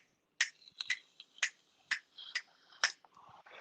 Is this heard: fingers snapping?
yes